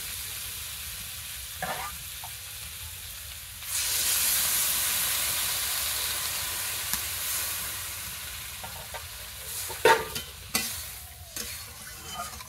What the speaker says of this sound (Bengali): এবার এর মধ্যে আমি আলুগুলো দিয়ে আর একটু ভেজে নেব